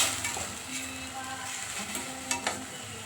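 Mushrooms frying in a masala base for a mushroom biryani, with a steady soft sizzle and occasional stirring scrapes and clinks of a spoon against the pan, quiet and close, with no talking.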